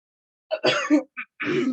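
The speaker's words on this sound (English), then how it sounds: "should I keep recording if I'm coughing?" A person recording a podcast clears their throat and coughs in a few harsh, close bursts with short pauses between them.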